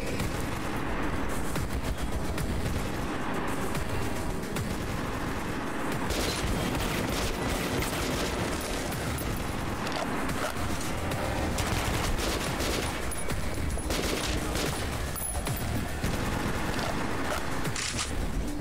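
Dense, relentless gunfire fills the Metro 2033 video game scene, with overlapping shots and rapid bursts crackling loud and close throughout, with no talk.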